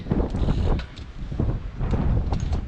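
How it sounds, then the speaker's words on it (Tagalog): Cold wind buffets the microphone in steady low rumbling gusts at the seashore, with a faint lapping of sea water in the background. "malamig yung simoy ng hangin ngayon"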